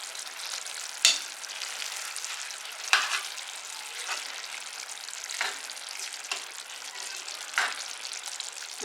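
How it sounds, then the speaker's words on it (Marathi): Stuffed brinjals in masala cooking in a pan over medium heat, giving a steady soft sizzle broken by several louder scraping stirs at uneven intervals, with no one talking. "आता वांगी छान शिजवून घेऊयात"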